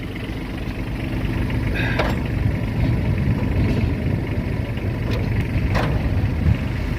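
A Japanese Kubota Aste 15 mini tractor engine idles at its lowest revs after a glow-plug start, a steady, even low drone that runs unbroken, close by and fairly loud.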